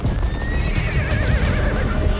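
Horses whinny loudly amid galloping hooves in a charging army scene, the neighing rising and wavering over a dense, rumbling clatter of hoofbeats close by.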